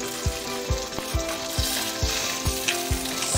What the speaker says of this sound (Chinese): 煎萝卜糕最好吃了。